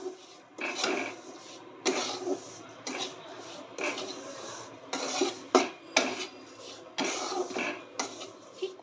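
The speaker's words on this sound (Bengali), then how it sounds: "সুজিটাকে এইভাবে এক থেকে দু মিনিট নাড়াতে থাকবো" Semolina being stirred in a pan with a metal spoon, repeated scraping and clinking strokes in a steady rhythm, close and moderately loud, with no talk.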